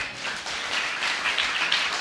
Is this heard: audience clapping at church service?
yes